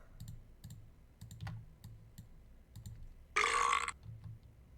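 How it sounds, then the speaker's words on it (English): A loud, raspy burp bursts out alone for about half a second amid soft, intermittent computer keyboard clicking and low murmuring. "Thank you for the burp, Dalton."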